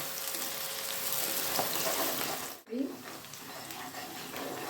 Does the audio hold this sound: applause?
no